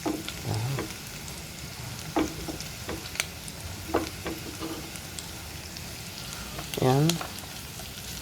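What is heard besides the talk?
onions sautéing in a pan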